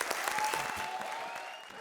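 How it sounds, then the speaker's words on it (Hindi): Studio audience applause on a Hindi television comedy show, welcoming a new performer onstage; dense, steady clapping fills the short stretch from start to finish at an even, fairly loud level. "तो जोरदार तालियों से स्वागत करो मेरे नए शिकार, नए पार्टनर का"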